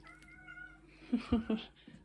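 A house cat gives a few short, soft meows in quick succession, close but faint, in a quiet indoor kitchen.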